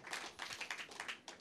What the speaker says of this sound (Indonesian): Ya beri tepuk tangan buat Tuhan Yesus.